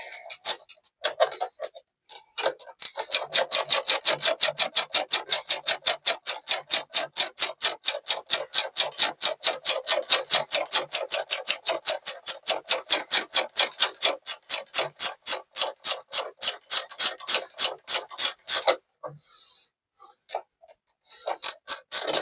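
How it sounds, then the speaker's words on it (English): A ratcheting spanner clicks steadily while the cylinder head is worked on a classic Morris Minor. Dozens of quick, evenly spaced clicks run for about fifteen seconds, close and crisp, then stop, followed by a few scattered taps. "The beauty of ratcheting spanners."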